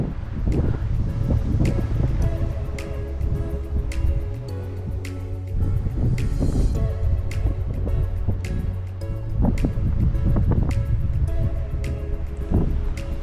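Water lapping and splashing where the Odiel River meets the Atlantic Ocean, with scattered close drips and splashes over a low, steady hum like a boat engine; no talking.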